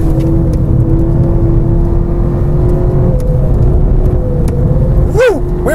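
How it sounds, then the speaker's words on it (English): A VW GTI drifts through a racetrack curve, its engine a loud, steady droning hum from inside the car, with a brief rising and falling whine near the end. "We were drifting a bit, ladies and gentlemen."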